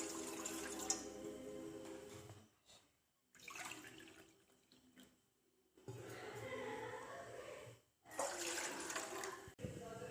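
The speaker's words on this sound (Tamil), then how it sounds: "இப்போ நம்ம 2 கப் பொட்டுக்கடலை சேர்த்ததுனால 4 கப்பு தண்ணி சேர்த்துக்கணும்" Water poured into ground roasted gram (pottu kadalai) in a pan for a sweet halwa, heard as several broadband splashing bursts separated by short pauses, fairly close and steady.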